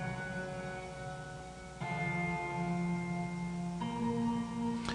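Sustained piano chords play back from music software, the harmony shifting twice with new chords entering near two and four seconds, steady and moderately loud with no voices.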